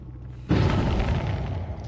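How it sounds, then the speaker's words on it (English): Explosion in the Dead by Daylight video game: a sudden loud boom bursts in after a quiet start, followed by a long rumbling, crackling decay that fills the rest of the moment. "Lots of explosions."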